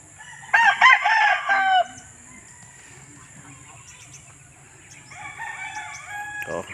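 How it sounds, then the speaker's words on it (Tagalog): A fighting rooster crows once, loud and close, then quiet outdoor ambience with distant birds and faint clucking toward the end. "panabong na manok"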